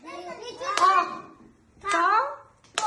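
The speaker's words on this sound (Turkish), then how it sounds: "ahtapotu alkışla heceleyebilir misin?" A child claps out the syllables of a Turkish word while saying them aloud, three sharp, separate hand claps spaced about a second apart, each paired with a spoken syllable.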